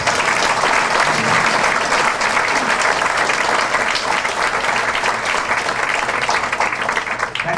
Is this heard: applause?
yes